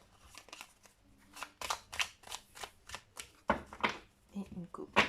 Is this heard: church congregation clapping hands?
no